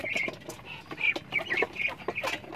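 Native chickens kept as crossbred laying stock cluck in a series of short, close calls of varying loudness, with several birds overlapping in an outdoor pen.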